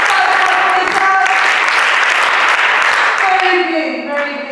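A children's assembly claps together in one sustained burst of applause, loud and dense for about four seconds before tapering off, with voices mixed in.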